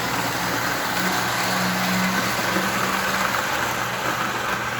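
An American Flyer Chrome 360 model train with an AB unit and four passenger cars runs on track, giving a steady rumbling whir that holds constant throughout, close and fairly loud with no voices.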